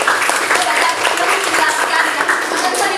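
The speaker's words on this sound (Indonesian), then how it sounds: "Tepuk tangan buat temannya." A classroom of students claps for a classmate, with dense, steady applause that fills the full three seconds at a fairly loud, close level.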